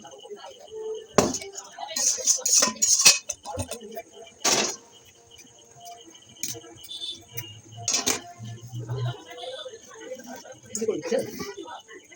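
Mutton curry is scraped and clanked into a pot with metal utensils, giving sharp intermittent knocks and clinks with pauses between them, close by, while a voice talks over parts of it.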